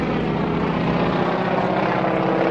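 Vintage airshow aircraft with an R1340 nine-cylinder radial engine and propeller: a steady, loud, throbbing engine drone that holds unbroken and fairly near throughout, with no talk.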